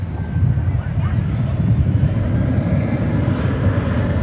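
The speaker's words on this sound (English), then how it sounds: "we've got a flight coming in from San Antonio here on the west side" Airplanes arriving at DFW Airport, including a flight from San Antonio on the west side, give a steady, broad, low engine roar that rumbles throughout, with wind noise on the microphone.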